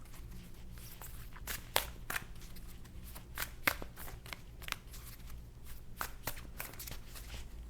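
Tarot cards being shuffled, a run of crisp riffling bursts and soft slaps repeating irregularly, close and fairly quiet against a faint steady background hum.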